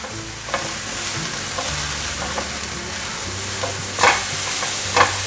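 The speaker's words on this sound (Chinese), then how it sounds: "现在放入茄子的皮、小黄瓜，" Mushrooms, eggplant skin and cucumber are stir-fried in a frying pan with a textured surface, making a loud, continuous sizzle with occasional spatula scrapes and clacks against the pan.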